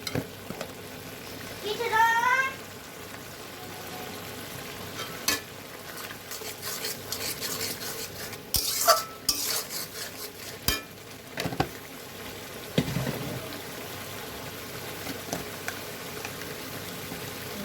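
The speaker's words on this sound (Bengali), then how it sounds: "এগুলো আমি খুব ভালোভাবে নেড়ে চেড়ে নেব মশলাটা ভালোভাবে কষিয়ে নিতে হবে" Spices and coriander powder being stirred and sautéed in a pan for a tuna-free fish recipe: a low frying hiss runs throughout, punctuated by repeated clinks and scrapes of a utensil and a few louder clatters, with a brief background voice.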